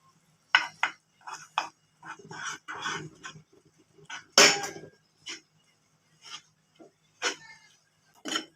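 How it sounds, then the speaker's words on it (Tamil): Flour being stirred into melted jaggery syrup in a pan, a string of sharp scraping and clinking strokes of a spoon against the metal, close and irregular, with quiet gaps between. "மாவு போட்டு கிண்டிக்கலாம்"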